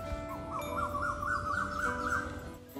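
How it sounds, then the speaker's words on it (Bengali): Morning birds outside a window sing a quick, warbling trill that rises and falls for about two seconds, fairly faint against a quiet background hum. "চারিদিকে পাখির কিচিরমিচির আওয়াজগুলো হয়, তোমরাও শুনতে পাবে, খেয়াল করো।"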